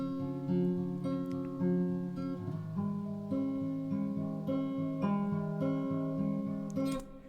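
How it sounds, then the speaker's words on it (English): Guitar recorded through a computer microphone with reverb added, a picked melodic phrase of sustained, ringing notes with a spacious wash, moderately quiet and without any voices. "Next one, I added some reverb."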